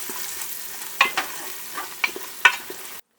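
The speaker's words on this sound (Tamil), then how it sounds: "பச்சை மிளகாய் சேர்த்துட்டு அதை வந்து லைட்டாக வந்து மிக்ஸ் பண்ணி விட்டுக்கலாம்" Green chillies sizzle steadily in a pot for Chennai-style mutton biryani, broken by a handful of sharp spoon scrapes and knocks before the sound cuts off abruptly.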